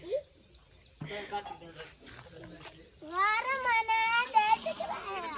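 A cat meows several times in close, drawn-out, wavering cries near a rural farmhouse, with people talking between and over the calls.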